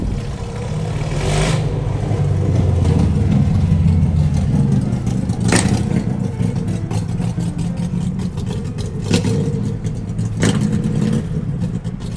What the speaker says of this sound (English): listen, I love motorcycles too, but you don't gotta be that loud.